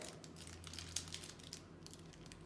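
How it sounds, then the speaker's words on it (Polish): Paper is folded around a homemade food bar that has been cooled and cut into pieces, giving a quiet, close crinkling with soft irregular rustles and no talking. "Mogę ładnie zawinąć w papier"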